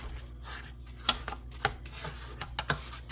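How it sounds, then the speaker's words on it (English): A spatula scrapes the sides and bottom of a mixing bowl of pound cake batter, giving soft, close rubbing strokes with a few sharper taps on the bowl. "We scrape down because we're trying to get all our ingredients in the main batch."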